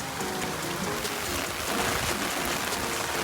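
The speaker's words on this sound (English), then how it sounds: "Okay, it's really pouring." Heavy rain pours down steadily during a safari in Kenya, a dense continuous hiss of drops drumming on surfaces, loud and close throughout.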